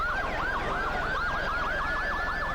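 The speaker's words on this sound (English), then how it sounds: "When the motorcade with sirens blazing finally pulled into view" A motorcade's emergency sirens wail in a rapid, repeating up-and-down pattern, loud and continuous, with traffic rumble underneath.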